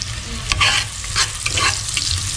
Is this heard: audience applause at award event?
no